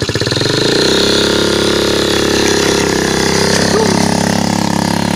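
A 60cc quad engine catches and runs, a loud, close, buzzing drone that climbs quickly after starting and then holds a steady high idle with slight pitch wavering.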